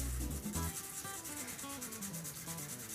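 A razor handle is roughed up by hand sanding, giving a steady scratchy rubbing rasp in close, rhythmic strokes with no talk.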